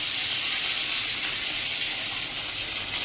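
Loud, steady hiss of rohu fish frying in hot oil, a dense sizzle filling the space close up with no break and no talk.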